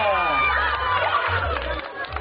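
A loud crowd of mostly children cheers and shouts together at an outdoor family picnic, a dense roar of voices with no distinct words.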